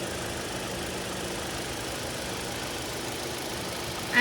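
A 2016 Toyota RAV4 GXL engine idles with a steady, even low hum and no clunks, heard at moderate volume without any speech.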